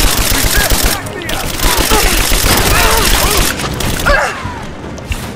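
Gunfire fills the scene in Rise of the Tomb Raider: dense, rapid bursts and rattling fusillades with heavy thuds run nearly continuously and loud, thinning briefly toward the end.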